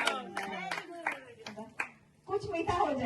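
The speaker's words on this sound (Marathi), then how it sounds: "टाळ्या" Scattered hand claps ring out at a family birthday get-together on a farmhouse, a few sharp separate bursts mixed in with close, lively talking.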